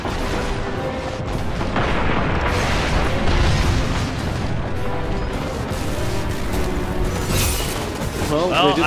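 An enemy blows up in the sci-fi shooter Destiny amid a dense, continuous barrage of crashing blasts and booming gunfire, loud and busy throughout, with players' voices talking over the combat.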